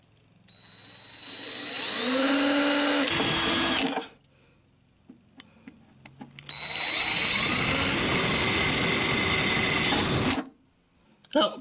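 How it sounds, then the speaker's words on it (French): A handheld electric drill bores two 3 mm holes in a metal clutch pedal part from a 1955 Citroën Traction 11. It makes two loud, close bursts of whining motor and cutting, each about three to four seconds, separated by a quiet pause with small handling clicks. "une perceuse, un forêt de 3 mm, je vais percer les deux trous K à 3 mm de diamètre."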